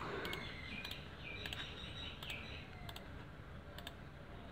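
Taps on a Samsung J2 phone's on-screen keyboard, a series of light, evenly spaced clicks at close range over a faint steady background hiss.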